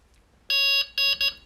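A TXI-D fishing bite alarm gives three sharp electronic beeps, one longer tone followed by two quicker ones, clear and close in a quiet setting.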